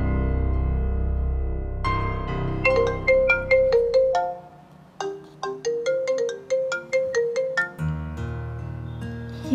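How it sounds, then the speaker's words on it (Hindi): A mobile phone rings with a bright, melodic electronic ringtone, two bursts of quick repeated notes separated by a short pause, clear and close over faint background music. "जो तैमूर का फोन है, लेकिन मैं बात कैसे करूंगी?"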